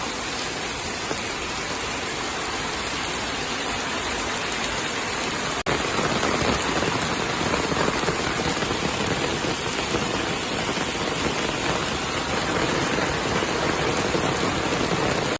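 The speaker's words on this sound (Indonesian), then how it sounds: "Kalian bisa lihat air hujannya itu mengalir kayak gini tuh seger banget. Aku suka ya kalau jalan kaki pas lagi hujan kayak gini." Steady rain pours down on a Singapore street while someone walks through it, a dense, loud, continuous wash of rainfall and running water with no voices.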